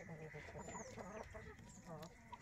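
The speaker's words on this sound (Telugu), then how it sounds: "ఇదిగోండి, పుంజు చూడండి." A rooster and hens at a home poultry yard cluck softly in short, repeated calls, faint and close together against quiet background noise.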